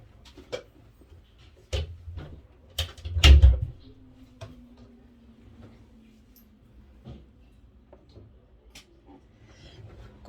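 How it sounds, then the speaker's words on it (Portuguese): A home-office door is pushed shut, with scattered knocks and clatters building to a heavier thud near the middle, then quiet handling noises and a faint hum. "Deixa eu só encostar aqui a porta"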